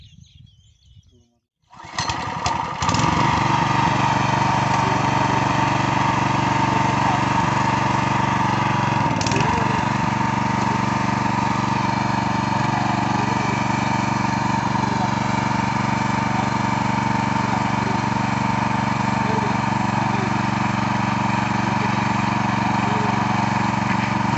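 A rotavator engine starts up and then runs loud and steady, a constant droning rumble that continues without a break.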